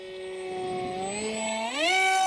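An RCP F18 model electric jet flies at about 35% throttle, giving a steady tonal whine that slides upward in pitch as it passes close by.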